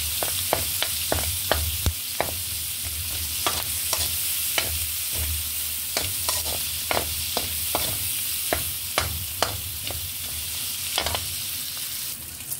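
Vegetables stir-fry in hot oil with garlic, onion, soy sauce and black pepper, a steady sizzle punctuated by frequent sharp clinks and scrapes of a utensil against the pan, close and continuous.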